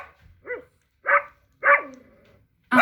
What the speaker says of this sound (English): This is what dogs sound like.